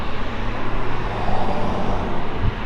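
A 1938 Ford two-door bustle back sedan retro-rod with a flathead V8, MSD distributor and blaster coil idles steadily up close, a low continuous rumble with no talk.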